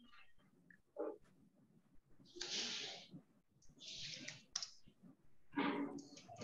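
Rapid clicking of computer keyboard keys as a command is typed into a terminal, with a few short bursts of keystrokes separated by pauses, close and moderately loud.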